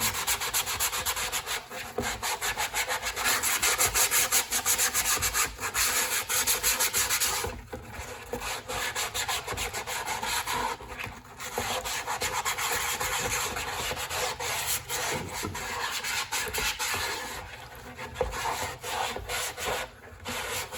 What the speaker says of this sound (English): let's just give this a quick sanding.